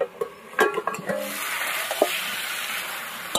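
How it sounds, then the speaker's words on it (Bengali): A metal lid lifted off a cooking pot of fish curry with cauliflower, a few quick clanks and scrapes followed by a steady sizzle of frying from the pan. "ঢাকনাটা খুলবো এবার।"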